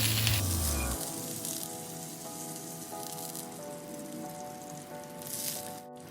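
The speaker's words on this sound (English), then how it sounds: "In a saucepan, we add butter and melt it until light gold." Steady sizzling and crackling of butter in a hot pan, a continuous frying hiss with faint scattered pops, no voices.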